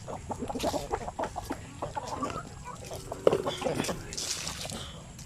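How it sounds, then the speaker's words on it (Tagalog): Native chickens cluck and murmur in a farm pen of breeders, soft calls scattered across the scene with one sharper squawk, while someone talks over them. "ang dami pang manok dito"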